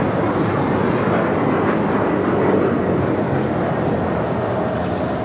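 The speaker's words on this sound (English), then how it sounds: "This is Breeze Airways Flight 6386 taking off to Madison on the E190." Breeze Airways Embraer E190 jet taking off at Los Angeles airport, a steady broadband engine roar heard from a distance, continuous and fairly loud.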